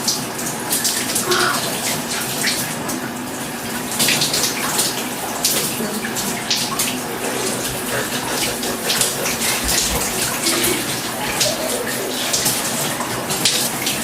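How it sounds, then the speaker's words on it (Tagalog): Water streams continuously from a shower, a steady hiss and splatter with occasional louder splashes, fairly close, and no one talking. "I'm gonna take a shower and watch me."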